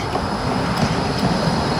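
Trams arriving at a terminus in Košice, Slovakia: a steady rolling rail rumble with faint wheel squeal, fairly close and continuous, with no voices.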